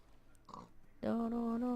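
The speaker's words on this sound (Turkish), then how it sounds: "Nereden lan domuz sesi geliyor?" A short pig-like grunt from a pig in Minecraft, then a sustained tonal squeal that is loud and close.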